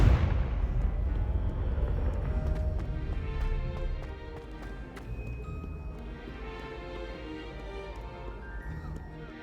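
The Confringo fire spell from Hogwarts Legacy goes off with a loud, booming blast at the start, then a long rumbling decay scattered with crackles and faint chiming tones.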